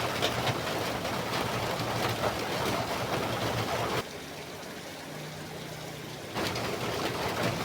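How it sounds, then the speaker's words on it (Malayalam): Rain falls in a steady, dense hiss, loud and continuous. The downpour briefly softens for a couple of seconds before returning at full strength. "എങ്ങോട്ട് തിരിഞ്ഞാലും മഴ മാത്രം മഴയോട് മഴ തന്നെ"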